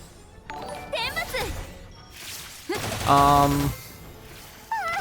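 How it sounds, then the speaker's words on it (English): Fireworks pop and crackle in scattered bursts in the background, mixed with bright chiming game effects and jingles. "there's fireworks in the background"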